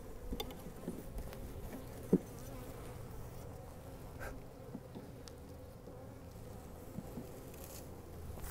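Honey bees swarm around a hive being split, a steady, faint, low hum with no voices and one brief sharp tap partway through.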